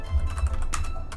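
Quick, soft clicks come from a computer keyboard as a sudo command is typed, a short burst of keystrokes close up over low background hum.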